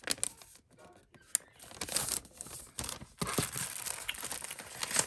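A paper holiday popcorn bag is handled and folded close by, giving soft crinkling and rustling with occasional sharper creases and crackles, irregular and fairly quiet throughout.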